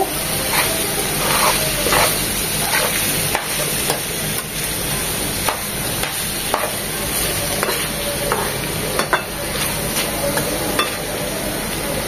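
Bitter gourd slices and a hilsa fish head fry in a pan with a loud, continuous sizzle, dotted with frequent scraping taps from stirring throughout.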